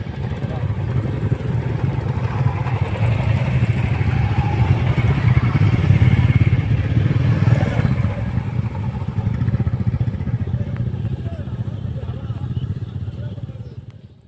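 Several motorcycles idling and revving together during a battalion bike drill, a loud, continuous rumbling engine drone with occasional surges, and people talking underneath.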